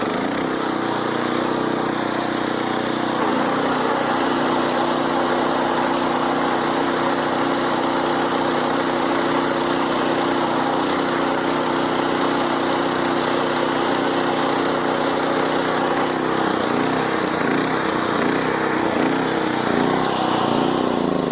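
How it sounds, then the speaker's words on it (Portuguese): Tractor-driven grass cutter cutting and windrowing Mombaça grass between tree rows, a loud steady engine drone running throughout, close and unbroken, with a slight change in tone near the end. "A máquina corta e já enlera na linha das árvores."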